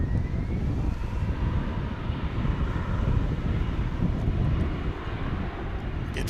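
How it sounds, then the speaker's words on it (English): American Airlines Flight 81, an airliner on approach, arrives at Dallas/Fort Worth Airport with a steady, broad jet roar mixed with wind buffeting the microphone, sustained at moderate distance. "the airplane that's coming into view"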